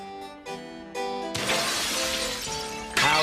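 Pottery smashes as a cartoon sound effect, one loud shattering crash of breaking crockery following a few short musical notes, with the debris ringing out for over a second before a final hit.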